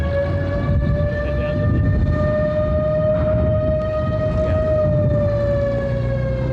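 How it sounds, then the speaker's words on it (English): Loud emergency siren holding a steady wailing tone, accompanying a military convoy as it heads down the road during a D-Day 75th commemoration event, sounding close and continuous over a low rumble of passing traffic. "as the siren heads down the road with the military convoy sort of leaving us here"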